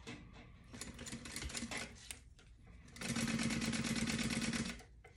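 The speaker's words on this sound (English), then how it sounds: "now I'm going to top stitch that" A sewing machine top stitches a crossbody bag an eighth of an inch from the edge. A few short, stop-start bursts of stitching are followed by one steady, louder two-second run, all quite close.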